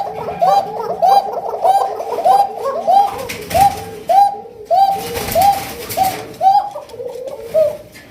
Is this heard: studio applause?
no